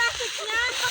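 A single brief, bright splash as someone jumps into water out in a farm field, close and fairly loud.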